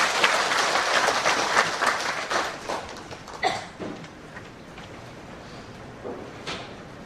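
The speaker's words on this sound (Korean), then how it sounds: "박수를 올립니다." Applause from a church congregation during a Sunday worship service, a dense burst of clapping that thins out and fades over several seconds to scattered claps.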